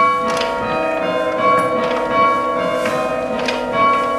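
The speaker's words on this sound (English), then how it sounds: "they pull the bell down and up it goes" Church bells are rung by pulling ropes, and several bell strikes ring out one after another with long, shimmering decays overlapping into a loud, resonant peal. No one talks.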